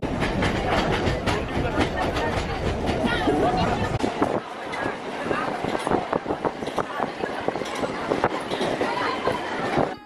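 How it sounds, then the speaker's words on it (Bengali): A moving local train rattles and clacks steadily, with metallic knocks and rumbling carriages, while voices murmur nearby inside the car. "লোকাল ট্রেনের ঝাঁকুনিতে এগিয়ে চলেছি আমরা"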